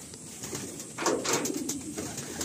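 Pigeons in a loft coo softly and repeatedly, a low rolling murmur that swells midway and continues steadily, with no talking.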